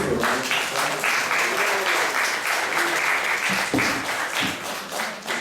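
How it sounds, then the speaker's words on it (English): A temple congregation at an ISKCON Sunday class gives a round of applause for the speaker, a full, steady burst of clapping that fades slightly toward the end with a few voices underneath. "let's give a round of applause for Goparaj Prabhu"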